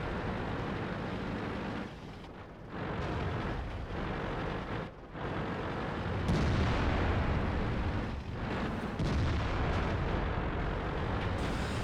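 World of Tanks battle on the Airfield map: heavy tank cannon blasts and rumbling explosions fill the clip in dense, loud bursts with brief dips between shots and no talk.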